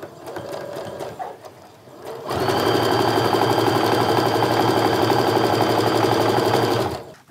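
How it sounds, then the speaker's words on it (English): A sewing machine stitches a quarter-inch quilt seam, its motor running in a loud, steady whir after a few seconds of quieter fabric handling, with no talking. "I'm gonna line up those points and sew my 1/4 inch seam."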